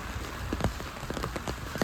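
Heavy rain pours steadily outdoors at night as a continuous broadband wash with scattered pattering drops, moderately loud and alone without voices.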